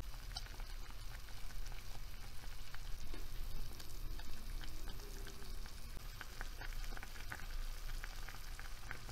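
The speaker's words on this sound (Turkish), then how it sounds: "20 dakikaya yakındır kaynıyor şerbetin içerisinde Kemal Paşalar" Kemalpaşa dessert simmers steadily in sugar syrup in a pot, a continuous soft crackling and popping with scattered small bursts, no voices present.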